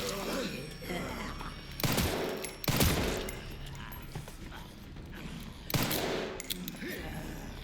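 Bursts of gunfire in the video game Resident Evil Requiem: several sharp shots spread through the scene, with busy game sounds and a voice in the background.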